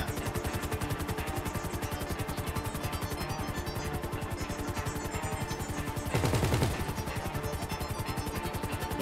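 Rapid automatic gunfire during a GTA Online heist, a fast steady stream of shots that runs unbroken and is punctuated midway by a heavier crash.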